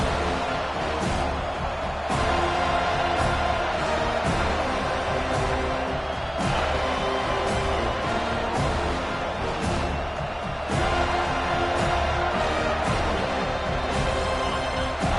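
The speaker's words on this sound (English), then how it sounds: "Listen to this crowd just shaking the girders of this place, trying to help their defense." A huge college football stadium crowd, Miami vs FSU, roars steadily throughout, a dense wall of cheering and noise with occasional sharp bangs, no clear voices on top.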